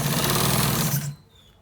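A sewing machine runs in one steady burst of rapid stitching along a trouser waist, close and loud for about a second before stopping abruptly.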